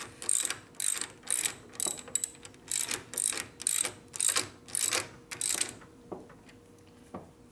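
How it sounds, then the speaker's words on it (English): A hand ratchet tightens a nut on a 1957 Harley-Davidson panhead engine, giving about a dozen rhythmic bursts of close, crisp clicking before falling quiet apart from a couple of faint taps. "Put a little torque on the nut right here to hold it."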